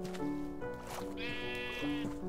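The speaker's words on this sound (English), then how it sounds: "Oh, there are sheep over there too." Sheep in the Minecraft video game give several wavering nasal bleats in quick succession, clear and close, some overlapping.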